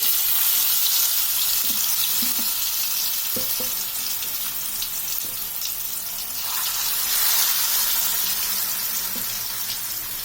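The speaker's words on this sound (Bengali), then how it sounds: "তেল গরম হয়ে গেছে, তেলটা এবার আমি গ্যাসটা একদম লো করে দেবো, দিয়ে আস্তে করে পিসগুলো আমি দেব" Chicken pieces fry in hot oil over a low gas flame for a Kolkata-style chicken chap, a steady bright sizzle throughout with a few soft clinks and taps of a utensil close by.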